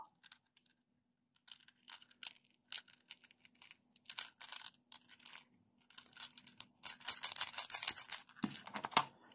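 Two small silver bells give faint, sparse tinkles that build into a denser, brighter jingle near the end, close and quiet with no talking.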